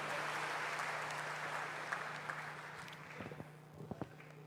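An audience at a public health lecture applauds a speaker; the clapping starts full and gradually thins and fades, with a few scattered knocks and footsteps near the end.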